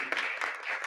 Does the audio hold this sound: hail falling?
no